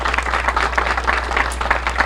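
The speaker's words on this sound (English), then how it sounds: "So let's give them their own big round of applause." Crowd at an outdoor Veterans Day ceremony at a VA facility gives a round of applause, thick continuous clapping that is near and loud for the whole stretch.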